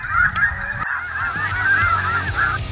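A flock of geese honks loudly and continuously on a waterfowl hunt in Saskatchewan. Many overlapping calls sound fairly close, with no talking.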